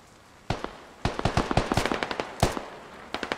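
Gunfire in the tactical shooter Squad: scattered single shots, then a rapid string of cracks, with another lone shot and a short burst after it, sharp and mid-distance against quiet background.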